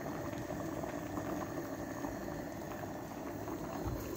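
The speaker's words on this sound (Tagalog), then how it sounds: "Ayan, nag-set na siyang kumulo." A cooking pot of liquid coming to a boil, giving a continuous dense bubbling and low rumbling churn, steady and close but quiet, without any talking.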